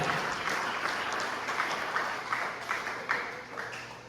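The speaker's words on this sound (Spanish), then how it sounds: "Den ese aplauso a la gloria de nuestro Dios" Church congregation applauding during a sermon at a Congregational church in Tegucigalpita, Omoa, a steady wash of many hands clapping together, moderately loud and fairly close, holding evenly for about four seconds with no talking over it.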